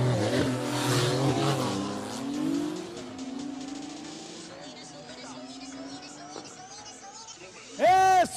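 Two cars race side by side, engines revving and accelerating with rising and falling pitch, tire squeal near the end, under loud crowd and commentator talk.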